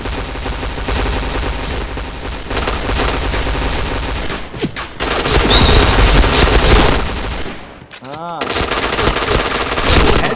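Rapid automatic gunfire and booms in a multiplayer first-person shooter game, loud and continuous bursts with a brief lull and a sweeping effect midway, friends' voices faintly underneath.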